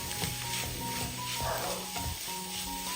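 Egg and coriander leaves stirred through a mixture in a hot pan, with a steady close sizzle of frying and scraping spatula strokes throughout.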